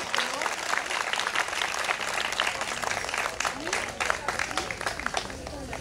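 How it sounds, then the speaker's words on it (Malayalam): Audience applause fills a stage event as a performer is honoured with a ceremonial shawl, with dense, steady clapping that keeps going at fairly even loudness throughout. "നിങ്ങളെല്ലാവരും കൈയടിച്ച് പ്രോത്സാഹിപ്പിക്കണമെന്ന് ഞങ്ങൾ വിനീതമായി അഭ്യർത്ഥിക്കുന്നു"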